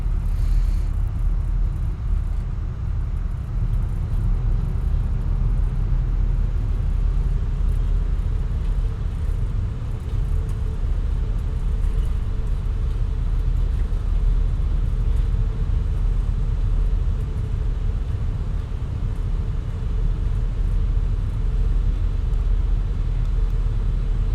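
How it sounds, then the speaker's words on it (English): Boeing 787 in X-Plane 11 rolling out after touchdown with reverse thrust engaged, a loud, steady low rumble of engine roar and runway noise that holds continuously with no talk. "We're down, speed brakes up, reverse is going out."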